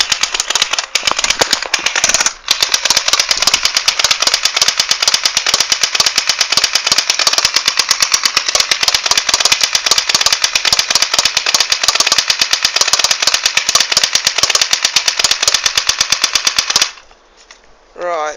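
A BB gun fires a long, rapid stream of sharp cracking shots at an Xbox console, close and loud, nearly continuous for about seventeen seconds, briefly pausing once before stopping abruptly.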